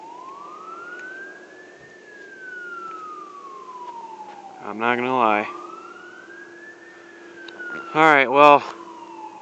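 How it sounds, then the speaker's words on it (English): Emergency sirens wail outside during windy weather ahead of Hurricane Joaquin: a long, distant tone sweeping slowly up and down, with bursts of close speech cutting in twice over steady wind noise. "Yeah, those sirens, those are nothing new."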